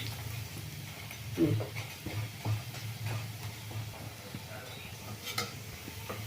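Baby corn snacks frying in hot oil and being turned over, a steady soft sizzle and bubbling with a few light utensil stirs and clinks near the middle, no talking.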